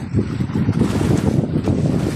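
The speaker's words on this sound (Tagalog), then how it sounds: "Medyo malakas pa yung hangin." Strong wind gusting at sea from a small boat off Antique, rough buffeting across the microphone with choppy water beneath, loud and continuous for about two seconds with no voices.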